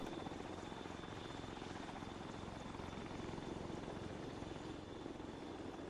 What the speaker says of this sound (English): Also hear a second helicopter coming in.